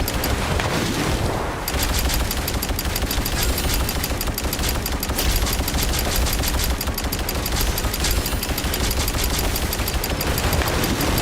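Video game gunfire in Girls' Frontline, a dense, loud, continuous stream of rapid automatic shots with booming impacts, no voices.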